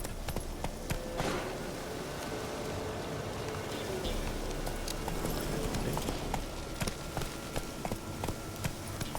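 Roach, the horse in Witcher 3, gallops with rapid, rhythmic clip-clop hoofbeats over a bed of game ambience, steady and fairly quiet throughout.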